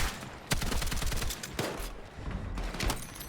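Rapid pistol gunfire in the Battlefield 6 multiplayer shooter, several sharp loud shots in quick bursts over busy battle noise, with no talk.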